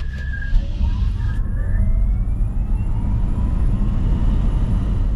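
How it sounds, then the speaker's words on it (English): A Kia EV6 GT electric car with 576 horsepower launching at full acceleration, its faint whine climbing steadily in pitch above a loud, constant rumble of road and wind noise. "Press the GT button to enable all 576 horsepower, slam the go pedal, and you're off."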